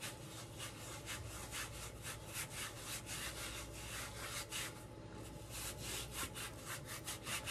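A Korean exfoliating mitt rubs back and forth over skin on an arm, giving a steady, close, abrasive scrubbing sound in quick repeated strokes with no talking.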